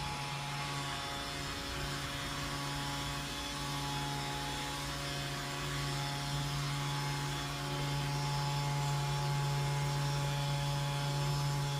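A leaf blower roars continuously with a steady whooshing drone, a constant motor tone running under the airflow from start to finish, blowing leaves onto grass while it snows.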